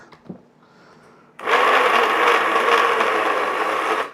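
After a few soft knocks, a kitchen blender whipping cream kicks on and runs at a loud, steady whine for several seconds, close and uninterrupted.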